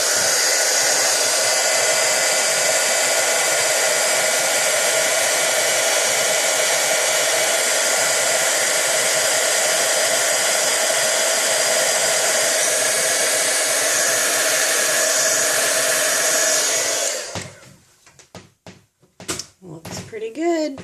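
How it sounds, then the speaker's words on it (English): Heat gun blowing a loud, steady roar for heat embossing designer paper, close and continuous for about seventeen seconds before switching off, followed by a few soft handling knocks. "I'm going to heat emboss this quick."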